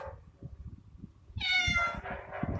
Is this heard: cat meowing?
yes